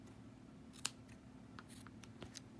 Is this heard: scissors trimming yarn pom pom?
yes